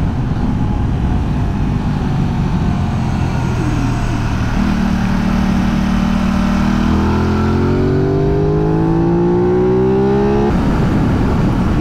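An Aprilia Tuono 660 or RS660 motorcycle engine brakes and then revs, a loud mid-pitched engine note whose tone climbs in rising sweeps before cutting off, with steady wind rush throughout.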